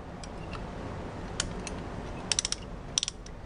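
A brake caliper piston tool being cranked by hand gives a few sparse ratcheting clicks, with a quick cluster of sharp ticks near the end against quiet background noise.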